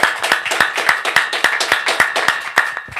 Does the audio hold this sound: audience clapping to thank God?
yes